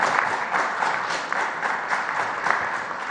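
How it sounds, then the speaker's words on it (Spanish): Sustained applause from an audience at a Mexican presidential press conference, dense and steady clapping with no one speaking over it. "En el Mundial, un aplauso."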